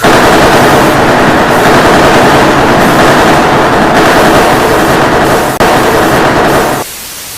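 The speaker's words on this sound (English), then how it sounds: "Open fire!" Heavy sustained gunfire roars in a dense, continuous burst, loud and close, briefly breaking before resuming and then cutting off abruptly near the end.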